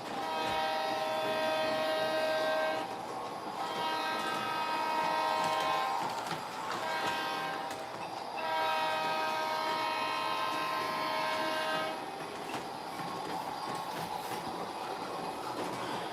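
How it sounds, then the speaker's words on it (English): HO and G gauge model trains rumble steadily along their tracks, with horn-like tonal blasts sounding in repeated bursts over continuous rolling noise. "there is enough distance between the HO train and the G gauge train to pass safely"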